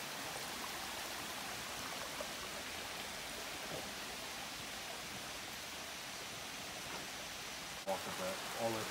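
Creek water flows steadily at Virginia's Natural Bridge, a constant broadband rush like a small stream over rocks, moderately close and even throughout, with a brief knock near the end.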